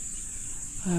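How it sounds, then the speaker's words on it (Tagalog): Crickets chirp at dusk as a steady, high, shimmering drone throughout, with a louder call that sounds like a chicken cutting in at the very end. "Naririnig na naman natin ng mga kuliglig dahil maggagabi na."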